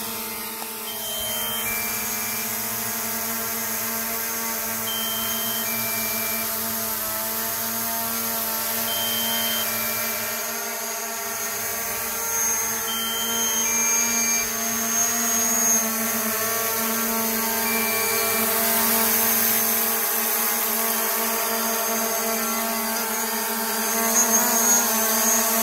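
A DJI Mavic Pro drone flies with a steady, close, buzzing whine of spinning propellers that holds constant and unbroken throughout, with slight shifts in pitch.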